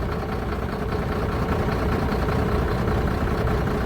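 Mercedes truck engine with a cylinder misfire idles at close range, a steady low rumbling drone with an uneven, slightly lumpy pulse.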